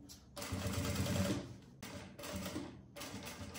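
Sewing machine stitching in quick bursts: a loud motor whir runs about a second, pauses briefly, then resumes twice in short reversing passes while hemming a folded edge on a luxury zippered cosmetic bag.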